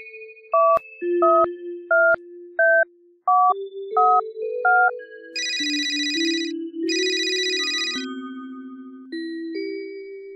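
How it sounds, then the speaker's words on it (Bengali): A telephone keypad being dialed, eight distinct two-tone beeps in quick succession, followed by two long ringing tones, all loud and clear with no talk. "দাঁড়াও, এখনই ফোন করছি।"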